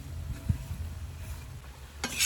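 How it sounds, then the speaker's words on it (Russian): Shashlik being stirred in a cauldron with herbs and red hot pepper, with soft scraping and shuffling close by, followed by a brief sizzle near the end. "Последний раз все перемешиваем"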